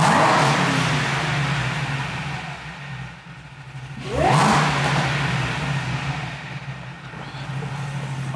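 A supercharged car engine, running on E85, idles with a low rumble, then revs sharply to about 4,000 rpm in one quick rising burst before settling back to a steady idle, heard close up.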